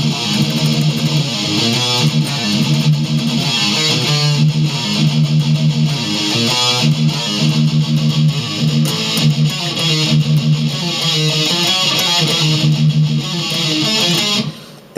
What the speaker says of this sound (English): Then you're going to speed pick that 6th string.